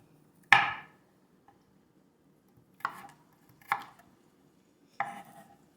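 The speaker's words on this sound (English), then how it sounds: "I'm gonna slice them large, and then I'm gonna dice them." A knife dices garlic cloves in four sharp, separate chops on a board, spaced irregularly with quiet gaps between, close and clear with no talking.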